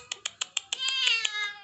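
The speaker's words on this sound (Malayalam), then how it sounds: "ഇത് അപ്പുറത്തെ പൂച്ചയാണ് ഉച്ചയാകുമ്പം വരും കഴിക്കാൻ ഇവിടെ കരയുന്ന എന്തിനാ കരയുന്നേ" A neighbour's cat meows repeatedly near the house, a run of short, close, evenly spaced cries that merge into a longer drawn-out wail, heard alone without talk.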